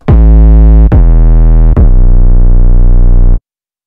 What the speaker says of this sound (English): And this is the 808 sound that I've got loaded.